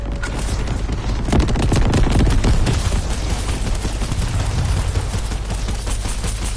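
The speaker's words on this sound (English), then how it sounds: "I'm shooting the zombies." Dense, loud bursts of video game gunfire rattle almost without pause as players shoot at zombies, with heavy booming hits mixed into the rapid volley.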